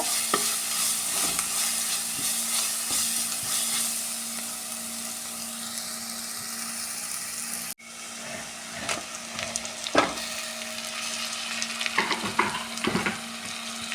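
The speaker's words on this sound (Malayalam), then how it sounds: "പച്ചമുളക് തക്കാളി ഇട്ട് നന്നായി വഴറ്റി കൊടുക്കുക" Green chilli and tomato sauté in a hot pan for a chicken dish, giving a steady loud sizzle with repeated scraping stirs and spoon clatter that grow busier in the second half.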